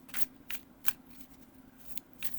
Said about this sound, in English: I would really only do side shuffling on wide cards